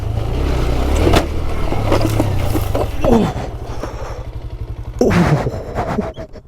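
A cheap fake motorcycle rides along a dirt trail, its small engine droning and puttering up close, dropping to a choppy idle midway before revving up again briefly.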